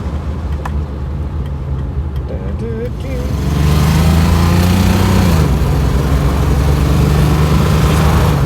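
A 1970 Mercedes-Benz 280SE sedan pulls away and picks up speed, its engine drone swelling louder after a few seconds and holding a steady, rising note through the cabin.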